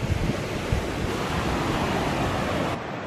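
Steady roar of surf breaking on a Bermuda beach, constant and fairly loud with some wind buffeting the microphone, continuing without pause and easing slightly at the very end.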